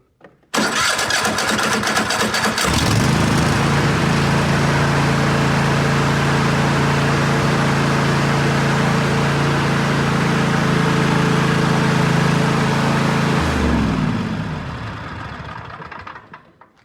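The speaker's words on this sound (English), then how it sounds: "Verify that the motor starts up." A Cub Cadet LT46 lawn tractor engine after a tune-up cranks briefly, catches and runs at a steady loud idle for about ten seconds before shutting off and winding down, with no talking.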